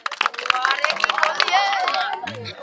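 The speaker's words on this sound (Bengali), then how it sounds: "সবাই হাতে তালি তার জন্য" A crowd of women at a village ball-passing game in Bangladesh claps for the winners, a dense patter of hand claps mixed with chatter and voices.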